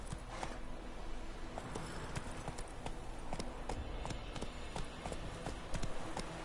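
Horse hooves galloping in The Witcher 3 video game: rapid, rhythmic clip-clop hoofbeats repeat steadily at moderate loudness throughout, with no talk.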